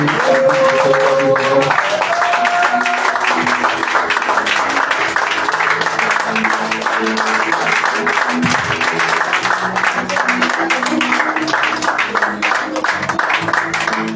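A church congregation applauds and cheers in acclamation at a French-language worship service, a loud sustained wash of clapping with voices and sung or held tones running through it the whole time.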